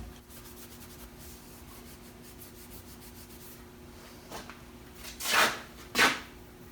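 Filler being rubbed off the fender of a 1950 Chevy 3100, quiet scratchy rubbing followed by two louder, brief abrasive swipes near the end, no talking.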